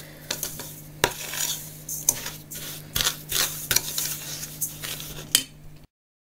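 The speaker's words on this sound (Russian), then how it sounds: "Пока мы смешиваем ингредиент, чтобы сахар хорошо смешался с маслом." Sugar being stirred into butter in a bowl for oatmeal cookie dough, with repeated scraping and clinking of a utensil against the bowl in an uneven rhythm, close and clear.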